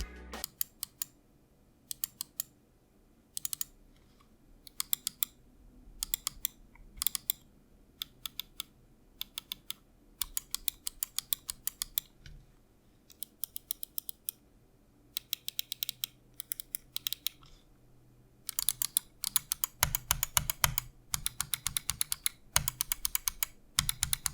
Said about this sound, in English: let's do a quick click test to show you how the mouse sounds like